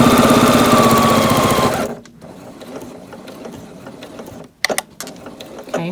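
A sewing machine stitches fabric with a loud, fast mechanical whir for about two seconds, then stops. Faint handling clicks and rustles follow in a quiet room.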